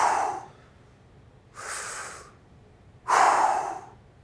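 Three deep diaphragmatic breaths demonstrated up close, each a loud breathy burst about half a second to a second long, spaced evenly with quiet pauses between, no talking.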